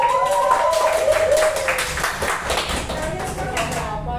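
Audience clapping after a classroom psychodrama performance, a dense burst of many hands that fades over about four seconds, with voices talking underneath.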